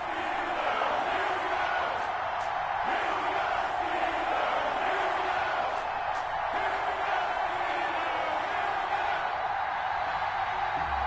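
Stadium crowd in Madden NFL before a Las Vegas Raiders versus Pittsburgh Steelers game, a constant loud roar of cheering and murmuring with a few sharper shouts, filling the whole stretch without pause.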